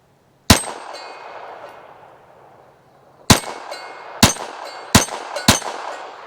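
A SIG P322 .22lr pistol firing 970 fps subsonic hollow points, giving five sharp shots, one alone and then four close together in quick succession, each with a ringing metallic tail and no talk.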